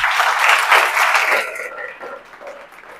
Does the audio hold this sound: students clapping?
yes